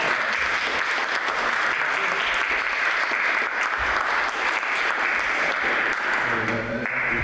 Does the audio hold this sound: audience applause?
yes